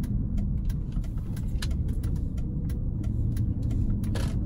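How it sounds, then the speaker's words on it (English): A Mercedes CL500 V8 heard from inside the cabin while driving, a steady low engine rumble and road drone with faint clicks and ticks over the top, no speech. "got a good sound from the V8 just coming through right now"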